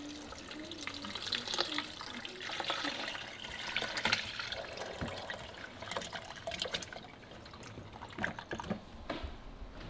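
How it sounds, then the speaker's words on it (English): Coconut water from young coconuts pouring into a blender, a steady splashing liquid stream for several seconds that rises and falls in strength, with quiet kitchen background. "No, go ahead and just pour it all right in."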